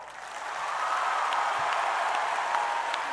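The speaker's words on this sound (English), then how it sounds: "एक बार बहुत जोर से सभी बच्चों लोग के लिए तालियां हो जाए।" Audience applause for a group of children at an award ceremony, a steady wash of many hands clapping that swells in and holds at an even level throughout.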